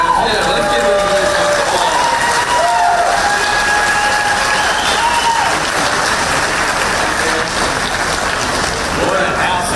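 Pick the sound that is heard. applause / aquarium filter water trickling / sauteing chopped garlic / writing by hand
applause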